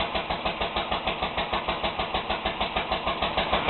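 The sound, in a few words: International Harvester McCormick Deering LB throttle-governed engine running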